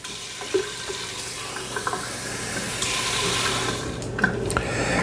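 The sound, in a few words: water running from a tap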